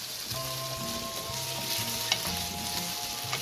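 Potatoes and carrots frying together in a pan for chicken afritada, a steady close sizzle with stirring scrapes and faint background tones throughout, no talking.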